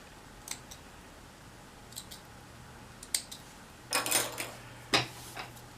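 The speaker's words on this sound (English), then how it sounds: "Let me trim off these threads here." Scissors trim loose threads off fabric, several short crisp snips spaced apart at close range, with a quick cluster of cuts near the end in a quiet room.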